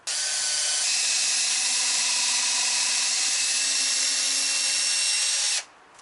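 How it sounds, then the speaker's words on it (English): A power drill bores a pilot hole straight through two stacked pieces of wood, a steady high-pitched whine running continuously for over five seconds, close and loud, then cutting off abruptly. "drill the hole straight through both pieces of wood."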